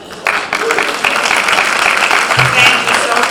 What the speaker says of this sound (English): Let's give her another round of applause, everyone.